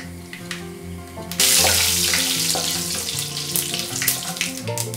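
Mustard seeds and urad dal drop into hot oil, and a quiet background jumps into a loud, bright, crackling sizzle that stays strong and slowly eases, with occasional pops and no talking.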